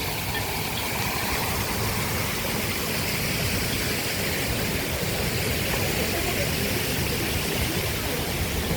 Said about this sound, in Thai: มีน้ำตกไหลลงมาด้วยนะครับ